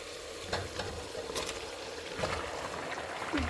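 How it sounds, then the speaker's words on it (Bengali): Washed duck or chicken meat going into spiced masala in a pan, a soft sizzle with a few scraping stir strokes and light clatter, fairly quiet and close, no voices. "এখন আমি দিয়ে দিব ধুয়ে রাখা গোস্তগুলো"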